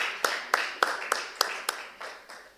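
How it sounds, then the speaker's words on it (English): Slow, separate claps, about eight sharp hand claps spaced evenly, faint and somewhat distant in a quiet room, from an audience at a student guild leaders' swearing-in and handover ceremony. "let's clap for these people"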